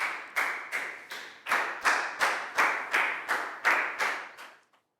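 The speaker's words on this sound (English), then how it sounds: "High five and a big round of applause for Pak Bung" Classroom applause for a student during a primary-school science lesson: a steady run of about ten evenly spaced, sharp claps from a small group, close and fairly loud, with no talking over them.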